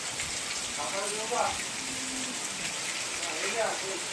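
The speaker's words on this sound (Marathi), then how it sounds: "पाऊस पडतोय बघा" Steady rain falling in a Konkan village, a continuous broadband hiss of drops with faint background chirps or voices, moderately loud throughout.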